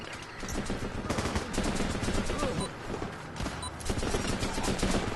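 Dense, continuous rattling gunfire from a war video game battle, with overlapping bursts and explosions filling the mix while a voice talks faintly underneath.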